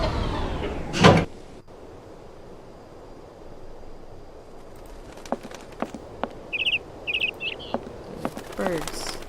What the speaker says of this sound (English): Birds. I scared a bird away.